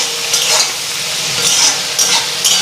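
Salted food frying in a pan before mustard powder is added, a close, continuous hiss that swells in a few soft bursts, heard alone.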